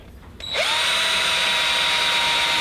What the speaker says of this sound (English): we can go ahead and drill through our second one,